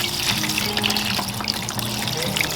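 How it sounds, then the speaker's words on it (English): A t-shirt being tie-dyed is rinsed under cold running tap water, a steady close hiss and splash of flowing water with faint low hum beneath, continuous throughout. "When the t-shirt is ready, take it out and rinse it under cold water."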